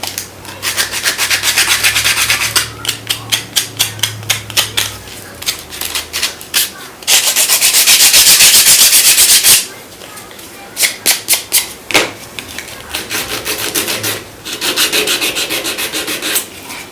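Wooden Christmas ornaments being sanded by hand, close and loud, a steady run of rapid back-and-forth scrubbing strokes with short pauses between bursts and one longer, denser stretch; a voice speaks over parts of it.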